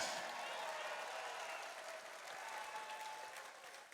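Loud crowd applause and clapping at a FIRST robotics championship event, honoring graduating seniors and alumni, with cheering voices mixed in and a slight dip midway.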